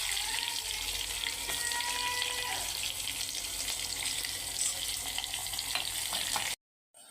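Onion pieces and garlic cloves frying in a hot pan after mustard seeds, a steady dense sizzle and crackle running close and loud throughout, cutting off abruptly near the end.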